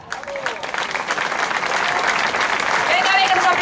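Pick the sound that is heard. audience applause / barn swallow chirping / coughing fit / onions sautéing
audience applause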